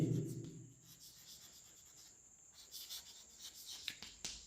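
Chalk or marker scratches across a board as a sentence is written, faint scraping strokes and taps, quiet and close, with brief muffled voice at the start.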